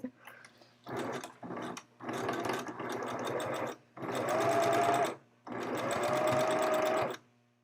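Sewing machine stitching around a garment waistband, several bursts of rapid mechanical whirring separated by short pauses, the later runs longer and steadier.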